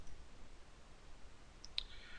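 A computer mouse gives a double click: two quick, faint clicks close together, alone in a quiet room.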